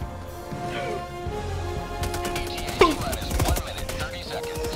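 A sentry gun fires in Helldivers 2, a fast rattling stream of shots that starts partway through over a busy game soundscape, with a sharper impact near the middle.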